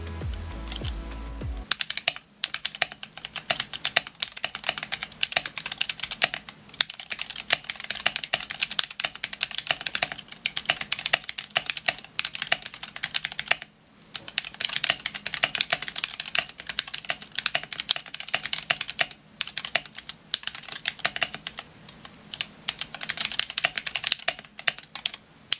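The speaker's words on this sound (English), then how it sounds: "So let's do a typing test with this keyboard." Rapid, continuous typing on a GamaKay K66 RGB mechanical keyboard with Gateron brown switches, close and clear, with dense overlapping key clacks and brief pauses, no voices.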